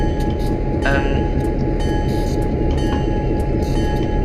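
EMD F7 locomotive at Bakersfield Amtrak station, a loud, steady rumble of rail cars with faint metallic clinks and brief squeals over the continuous drone.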